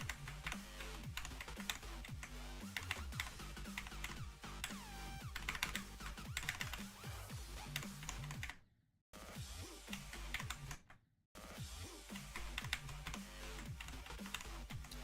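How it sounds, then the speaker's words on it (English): Fast, continuous clicking of computer keyboard keys during gameplay, close and crisp, with two brief silent gaps, no speech. "Do it with my keyboard."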